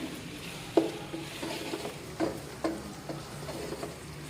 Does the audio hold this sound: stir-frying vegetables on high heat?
yes